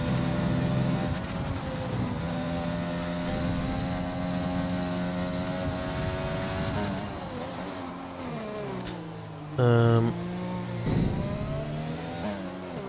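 An F1 car's engine screams around Silverstone in the F1 2020 game, a sustained high-pitched whine rising and falling through gear shifts, with a sharp downshift and braking dip near the end.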